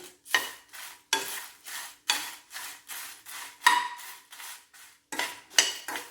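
A spoon scrapes and clanks against a pan while sambhar powder spices and red chilies dry-roast in a little oil, in about ten rhythmic strokes up close.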